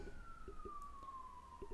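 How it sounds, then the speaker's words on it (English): An emergency vehicle siren sounds as a single faint, slowly falling tone, heard distant and steady against low background noise. "Another siren."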